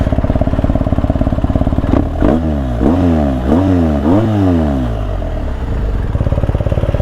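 A BMW motorcycle with an Akrapovic exhaust system: a loud, close idle with a throbbing rumble, then four quick throttle blips that rev up and fall back, settling again to a steady idle.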